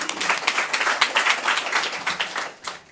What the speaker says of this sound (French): elle mérite nos applaudissements.